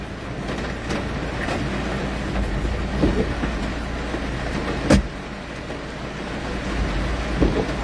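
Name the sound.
heavy rain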